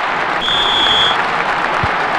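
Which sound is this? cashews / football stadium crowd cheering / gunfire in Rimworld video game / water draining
football stadium crowd cheering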